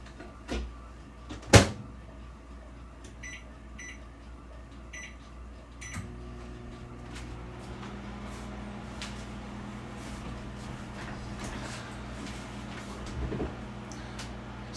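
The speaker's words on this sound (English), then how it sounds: "let's put it in the microwave and give this thing a go." A microwave oven heating a Jamaican beef patty: a door clunk and a beep, then a steady low electric hum and whir that runs on alone.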